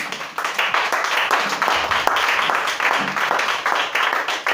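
A church congregation claps and applauds the Lord Jesus Christ during a worship service, a dense, sustained burst of many hands clapping close by at a lively pace, with faint voices underneath.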